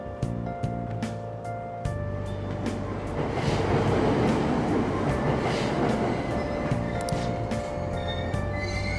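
A Tokyo subway train at Aoyama-Itchome station in the video game Persona 5 Royal gives a steady, loud rolling rumble with a rhythmic clickety-clack of wheels, building slightly in the middle.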